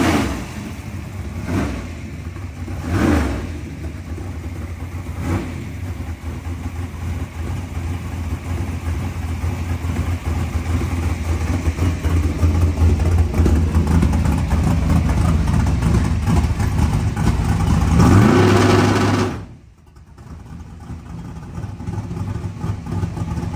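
A 1955 car's engine after carburetor work, running loud and close with a rough idle that swells into sustained revving, climbs to a peak, then drops off sharply before idling again.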